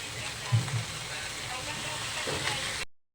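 Vegetables hit a hot pan in a dish of gata with sigarilyas (winged beans), giving a steady broadband sizzle with a couple of soft stir bumps near the start before the sound cuts off.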